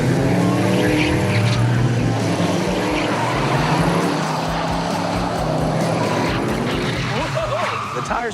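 A 1972 Ford Pantera on old tires squeals and skids while its engine roars close by, a sustained rough screech with revving underneath as people talk over it.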